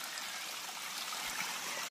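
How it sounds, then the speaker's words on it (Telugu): Spring water trickles steadily out of forest rocks and roots on a trek to the Ubbalamadugu waterfall, a close, even, continuous wash of flowing water with no voices. "Pure drinking water. అడవి రాళ్ళల్లో నుంచి వేర్లలో నుంచి వస్తుంది."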